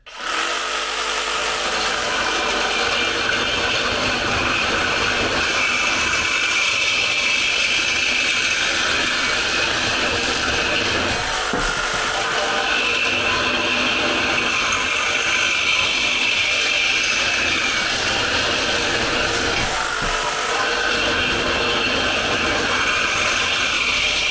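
A cordless FLEXVOLT reciprocating saw cuts through a 60 by 30 metal profile in one long, loud, unbroken run of harsh, buzzing blade strokes, no voices.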